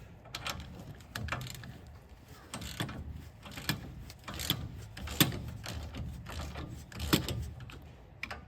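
A wrench works loose a nut on the steering linkage of a 2007 Ram 2500 pickup, giving repeated metallic ratcheting clicks and clanks in an irregular rhythm, close and moderately loud.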